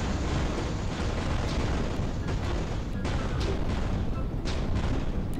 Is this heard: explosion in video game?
yes